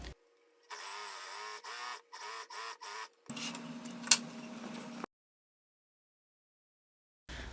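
A sewing machine stitches along the edge of a shirt in several short, close runs of humming mechanical stitching, followed by a longer lower whir and then silence.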